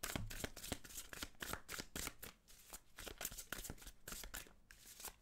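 Tarot cards shuffled by hand in a steady run of crisp riffling and flicking bursts, close and fairly loud, with no voices over them.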